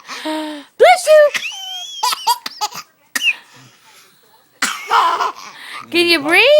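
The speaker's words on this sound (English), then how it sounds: "You made him cough." A baby coughs several times in short bursts mixed with giggles and laughter after sneezing, close and loud, while adults talk around the baby.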